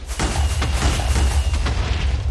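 A rocket launcher blast in modded Minecraft, a loud, deep booming explosion with rumbling low end and a few sharper bursts over about two seconds.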